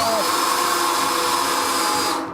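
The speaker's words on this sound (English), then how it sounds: "So all we have to do is drill a hole using a drill" A steady high-pitched electric drill whine runs continuously for a couple of seconds, loud and close, drilling a hole while building a two-stage smoker, then tapers off at the end.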